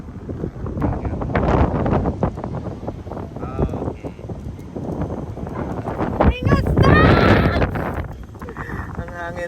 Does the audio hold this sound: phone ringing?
no